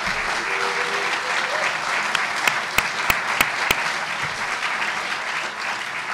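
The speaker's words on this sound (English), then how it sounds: "so I want to give them a round of applause" A large crowd applauds during Seattle's 2019 State of the City address. Sustained, even clapping fills the hall, with a few sharp louder claps standing out near the middle.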